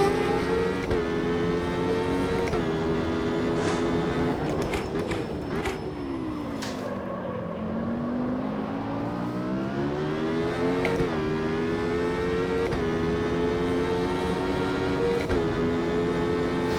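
Race car engine in the sim racing game Automobilista 2, droning and revving continuously as it accelerates, with the pitch dipping mid-way and climbing again through gear changes, loud and steady with no talking.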